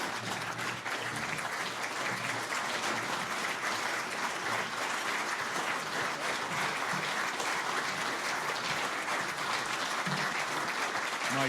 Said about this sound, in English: Let's give a big round of applause to Medal of Honor recipient, Sergeant Major Patrick Payne.